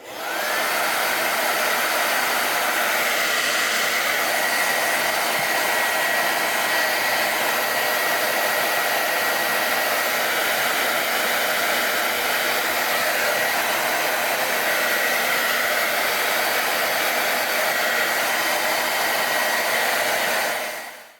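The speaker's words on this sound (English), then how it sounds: "You can use a hair dryer" A hair dryer blows hot air onto sheepskin, a loud, steady whooshing roar that runs without a break for about twenty seconds, close by and with no talk.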